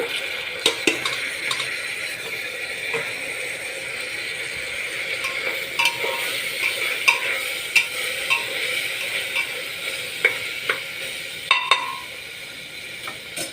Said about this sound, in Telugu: ఉల్లిపాయ కాస్త వేగాక అందులో ఒక టమాటాను ముక్కలు చేసి పెట్టా మూడు పచ్చిమిర్చిని ముక్కలు చేశాను వేసేస్తున్నా